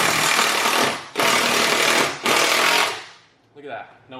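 Three loud, close bursts from a power drill, each about a second long, drive large screws with washers into a car bumper, followed by a brief, softer rattle.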